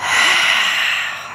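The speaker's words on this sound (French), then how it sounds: "on inspire et on expire" Controlled breath during a Pilates full-body exercise, one long, loud, airy exhale or inhale close to the mic, steady and sustained, then easing off at the end.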